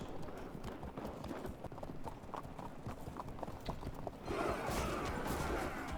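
Light cavalry hooves from the Field of Glory 2 strategy game, a steady clip-clop of horses trotting with faint battle ambience, growing busier and louder near the end.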